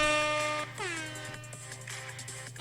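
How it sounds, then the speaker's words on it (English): A loud air horn blares in one long sustained tone, then drops and wavers through a second, rougher blast with crowd noise behind it. "And that air horn goes way too long."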